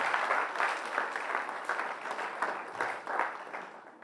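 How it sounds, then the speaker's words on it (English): An audience at a university research day plenary applauds, a moderate crowd of clapping hands that swells in loose waves and tapers off slightly toward the end. "Let us give them applause because they just joined us"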